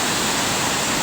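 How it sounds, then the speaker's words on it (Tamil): Water runs along a forest path toward a waterfall as a steady, dense rush of broadband noise, close and continuous with no pauses or voices. "போகும் வழியெல்லாம் தண்ணி வந்துக்கிட்டு இருக்கு."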